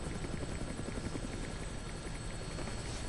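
Helicopter in flight in the video game Dead Rising: a steady rotor chop and engine drone, even and continuous, fairly close, with no speech over it.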